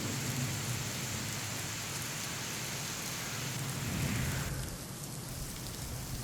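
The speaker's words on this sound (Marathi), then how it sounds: "रायगड जिल्ह्यातील काही भागात पावसानं पुन्हा एकदा बरसण्यास सुरुवात केली" Rain pours down over parts of Raigad district in a dense, steady hiss that eases slightly near the end, with no voices over it.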